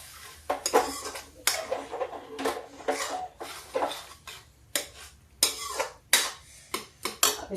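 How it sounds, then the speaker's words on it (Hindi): A utensil stirs banana chutney made from leftover fruit in a pan, giving rhythmic metallic scrapes and clanks that come in quick, uneven bursts, close and fairly loud, with no talking. "इसको ऐसे ऐसे मिक्स करते रहिए।"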